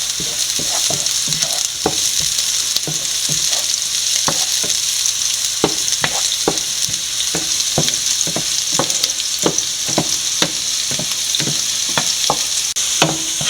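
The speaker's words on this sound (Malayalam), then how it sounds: "വെളുത്തുള്ളി പച്ചമുളക് എല്ലാം നല്ലപോലെ ഒന്ന് വഴറ്റി കൊടുക്കാം" Garlic and green chillies with ginger and softened onion are stirred in a hot pan for Kerala-style beef cutlet, with a steady sizzle under repeated, rhythmic scrapes of a spoon against the pan.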